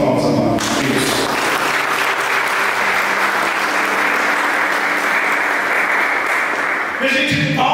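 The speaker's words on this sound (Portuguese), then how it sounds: "Dá uma salva de palmas, amado Deus" Congregation applauding during a Catholic service, loud sustained clapping from many people filling the space, with a voice briefly heard at the start and end.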